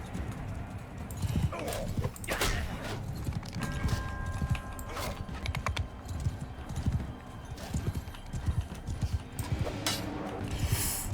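Horses galloping in a mounted four-versus-four tournament in Mount & Blade 2: Bannerlord, with steady rapid hoofbeats, clanking and occasional neighs, loud and continuous.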